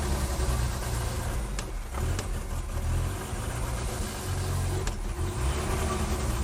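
A 1983 BMW 320i E21 engine runs as the car creeps backward, giving a steady, lumpy mid-pitched rumble with a few brief surges, heard close and alone.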